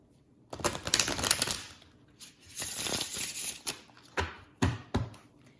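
A deck of Egyptian-themed cards being shuffled by hand in short riffling bursts separated by pauses, close and quiet, with a few sharp slaps and rustles.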